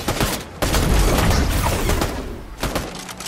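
Gunfire in a Fortnite squads match, a dense burst of shots and booms with broadband crashes, loud and close, continuing over about three seconds with a brief lull before more shots.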